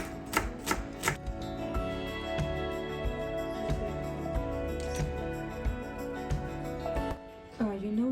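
A knife dices onion into tiny cubes on a cutting board for Russian pelmeni, giving a run of crisp, evenly spaced chops over a tonal, music-like background.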